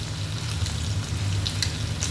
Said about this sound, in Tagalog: pina-fry natin konti yung ating patatas